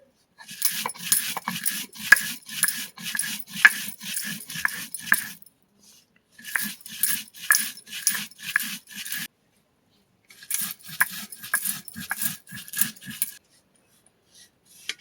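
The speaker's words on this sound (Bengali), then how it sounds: "এবার আমি বেটে নিয়ে আসবো শিলে। মশলাগুলো ভালো করে গুঁড়ো করে নেব।" Whole spices are ground on a flat grinding stone, with a rough, rhythmic scraping and rubbing in three long bursts separated by short pauses. The sound is close and steady with no talking.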